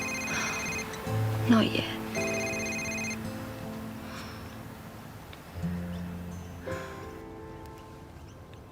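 A telephone rings in a quiet room in short bursts, two or three rings that stop without being answered, while a person speaks briefly between them.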